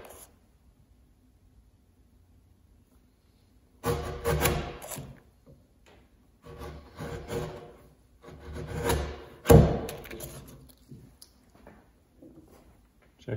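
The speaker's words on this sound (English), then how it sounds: "I will start with a corner chisel. Clean up the corners." Hand corner chisel paring and cleaning the corners of a timber-frame mortise, heard as several bursts of close wooden scraping and rasping strokes separated by quiet pauses.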